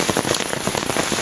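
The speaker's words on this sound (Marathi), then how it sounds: "पाऊस का अजून कमी झालेला नाही." Heavy rain pours steadily onto a surface around a village house in the Konkan countryside, a dense close patter of drops with no voices.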